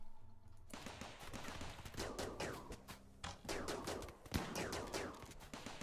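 Charge rifles firing in the Rimworld video game, Alpha 15, during a fight on an extreme ice sheet map. Rapid volleys of sharp, overlapping shots come in dense bursts with brief gaps, fairly quiet, with no talking over them.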